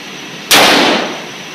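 A single sharp handgun shot cracks out at an outdoor shooting range, loud and close, followed by a brief decaying echo.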